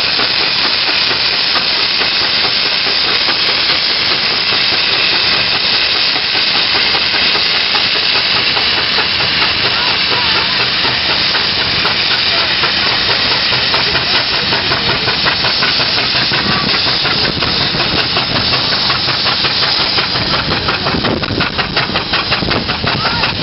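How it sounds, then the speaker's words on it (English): A steam traction engine works hard hauling a heavy load at a 100-ton pull event at Rempstone, giving a loud, continuous rush of steam and hiss over a rumbling, rhythmic chuff that runs steadily throughout. "the engine at the front is actually doing the pulling"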